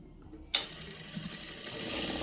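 A sewing machine stitching stretchy velvet fabric for pants starts with a sharp click and then settles into a steady, fast mechanical whirr that hums on close by with no talking.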